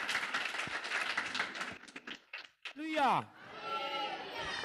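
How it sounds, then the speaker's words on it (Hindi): A church congregation claps loudly in thanks, with dense applause for about two seconds that thins into scattered claps, after which a voice rings out. "आप लोग जोरदार ताली बजा के प्रभु को धन्यवाद दीजिए।"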